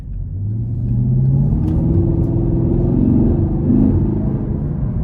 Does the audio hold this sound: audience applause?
no